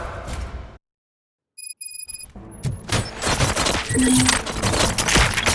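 Bursts of gunfire erupt in the game RoboCop: Rogue City, a fusillade of rapid shots rising loud and dense after a brief silence, with electronic beeps and alarm-like tones mixed into the chaotic action.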